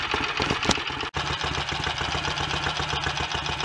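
A BSA A65 motorcycle engine idles steadily while warming up, a close rhythmic mechanical thrum with a brief dip partway through.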